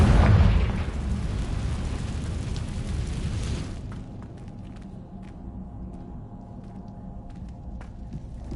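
A loud fiery blast from the Confringo spell in the Hogwarts Legacy video game, a booming burst that rumbles on for several seconds before dropping to a quieter background with faint clicks.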